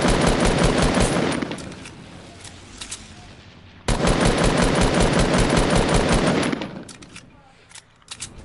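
Sustained rapid automatic gunfire from a Fortnite match, loud and dense in two long bursts separated by a quieter stretch with scattered single shots, ending in a few sharp isolated reports.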